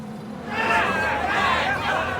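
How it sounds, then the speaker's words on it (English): Team cheering from the pit wall in the F1 Manager 22 racing game, a steady crowd-like chatter of voices swelling and holding for about two seconds, mid-loud and continuous. "The driver's team there cheering them on."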